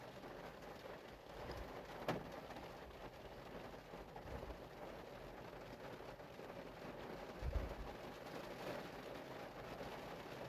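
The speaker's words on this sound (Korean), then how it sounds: "밖에 비가 장맛비가 내리고 있습니다" Monsoon rain falls outside in a steady, even hiss, with a couple of soft low thumps mixed into the constant downpour.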